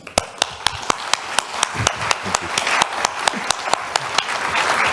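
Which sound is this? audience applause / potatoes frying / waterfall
audience applause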